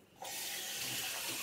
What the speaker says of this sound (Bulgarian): Когато слагаме вода.